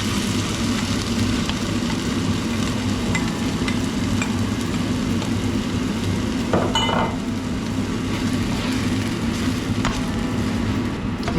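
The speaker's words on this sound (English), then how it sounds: "Next I'm going to add in the tomato sauce." Tomato sauce poured into a pan of frying chicken tikka masala with garlic and ginger, a steady loud sizzle and bubbling hiss filling the whole stretch, with a brief stirring scrape partway through and no talking.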